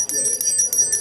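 A Salvation Army bell ringer in front of stores at Christmas shakes a handbell, giving bright metallic rings in a quick repeated rhythm, close and steady.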